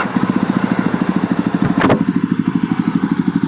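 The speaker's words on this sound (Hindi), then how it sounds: "I love the sound of this bike" A Jawa Perak motorcycle engine thumping at a steady, rapid idle pulse, loud and close, with a brief rush of noise midway and no talking.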